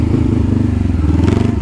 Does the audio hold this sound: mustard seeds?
no